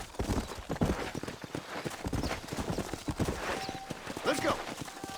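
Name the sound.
horse hoofbeats while riding, from Red Dead Redemption video game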